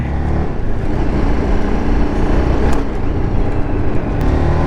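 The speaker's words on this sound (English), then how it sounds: "quickly start this vehicle and see how does it performs" A TVS Apache RR 310 BS6 motorcycle engine runs at a steady, loud, rumbling idle close by for a few seconds, with no speech over it.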